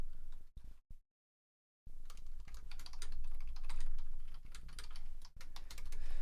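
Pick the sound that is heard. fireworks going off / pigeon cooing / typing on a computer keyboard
typing on a computer keyboard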